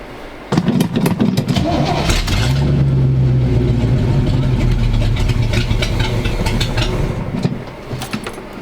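A big block V8 in an abandoned square body pickup, left sitting for 20 years, cranks and catches, then runs loud and rough at a steady idle for several seconds before the revs sag near the end.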